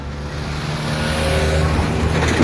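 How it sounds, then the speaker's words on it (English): A car approaches along a woodland driving path on the Portuguese Camino, its engine and tire rumble rising steadily louder as it nears, with no one talking. "And there's another car coming."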